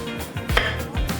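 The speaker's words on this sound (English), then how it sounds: "So then I'm just going to cut them into strips, turn them, and then again just rough dice." Knife dicing pineapple on a cutting board, a few quick chopping thuds in an uneven rhythm, close and clear.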